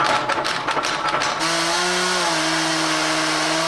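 A power tool at a summer metalworking symposium for artists whirs with a sputtering start, then settles into a steady high-pitched grinding drone, loud and close with no talk.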